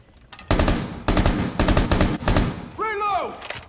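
Close, loud bursts of automatic gunfire come in several rapid volleys during a Rainbow Six Siege match. Near the end a voice speaks briefly.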